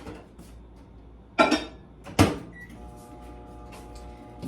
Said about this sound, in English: I'm gonna put it in the microwave for about a minute